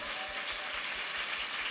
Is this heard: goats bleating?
no